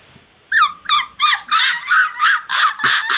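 A dog, likely a small white one, gives a quick run of eight or so sharp, high yappy barks in steady rhythm, close and fairly loud, with no talk over them.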